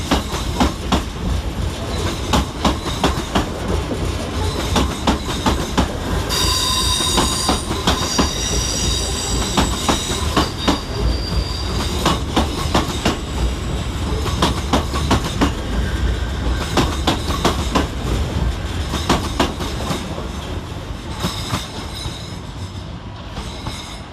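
Class 357 electric multiple units rumble past at Fenchurch Street on their way to East Ham EMU Depot, with continuous loud wheel noise, rhythmic clickety-clack over rail joints, and squealing wheels on the crossing, with no one talking.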